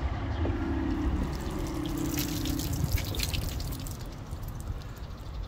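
Water poured over a waterproofed convertible car top, a steady splashing and dripping patter that runs throughout, close and moderately loud, with a low hum underneath.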